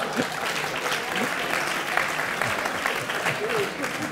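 Audience applause at a business keynote conference, a steady wash of many hands clapping throughout, dense and continuous at moderate loudness.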